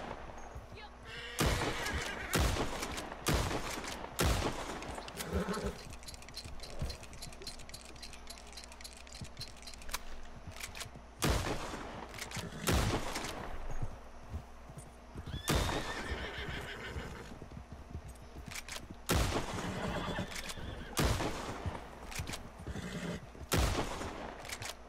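Horse in Red Dead Redemption 2 whinnying loudly, with repeated sharp impacts and hoof clip-clop scattered across a long stretch over a steady low hum.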